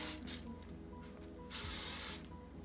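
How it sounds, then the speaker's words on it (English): Olive oil spray hisses onto raw steaks before they go into a Power Air Fryer XL basket, in several close bursts with one longer, louder spray near the end. "I'm going to spray them first with olive oil spray"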